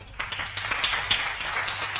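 A small audience at a literary debate during a book fair claps briefly, a loose patter of scattered hands at moderate distance with a faint low hum underneath.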